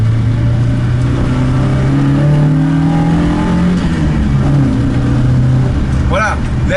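A BMW 2002 engine revs up and falls back in rising and dropping sweeps, loud and close, with a steady mechanical drone underneath.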